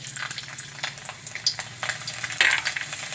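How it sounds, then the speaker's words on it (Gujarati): Garlic dropped into hot oil crackles and sizzles up close, with a few light utensil taps and clinks against the pan, louder toward the end. "તો હવે આપણું તેલ ગરમ થઈ ગયું છે, તો આપણે એમાં લસણ નાખી દેવું"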